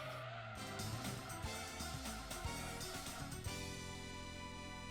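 A Toyota Yaris in Gran Turismo 2 brakes hard, its tires squealing in a sustained skid over a droning engine tone, the screech fading into a steadier hum near the end.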